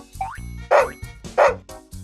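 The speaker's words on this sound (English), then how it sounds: "A dog makes a woof sound." Several short, close dog barks or woofs follow one another in quick succession, loud and clear with brief pauses between them and no other sounds.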